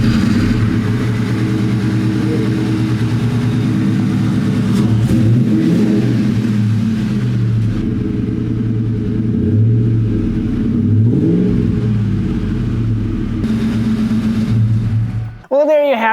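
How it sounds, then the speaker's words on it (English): A Ford Mustang's V8 with an aftermarket Flowmaster exhaust rumbles loudly and continuously, with several throaty revs climbing and falling before it suddenly cuts off, followed by a brief chirp. "The V8 roars to life, and it sounds amazing with that aftermarket Flowmaster exhaust on there"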